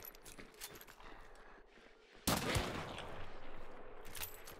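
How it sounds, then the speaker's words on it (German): A single sudden loud gunshot in Hunt: Showdown breaks a quiet, dark stretch of ambience and leaves a lingering echoing tail, with no talking. "Warte, ich schieß mal..."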